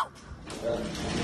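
A voices a short imitation of a dog's bark, a single close vocal yelp of about a second.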